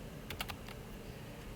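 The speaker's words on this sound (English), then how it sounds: "So let me type. I'm typing on my keyboard." Several quick keystrokes on a computer keyboard, a short burst of soft clicks early on, then quiet room tone.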